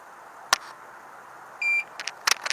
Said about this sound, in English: Oop, something beeped.